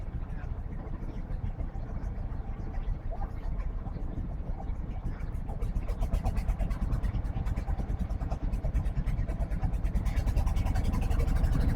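A boat motor on Nikli haor thrums steadily at close range, its low rhythmic chug growing louder and more rattly toward the end, with faint voices now and then under the engine noise.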